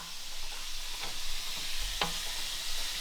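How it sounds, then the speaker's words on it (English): A spoon stirs pork and beans in a pan with a low, steady sizzle, one sharp scrape of the utensil near the middle, soft and close with no talk. "Let's give our beans a stir."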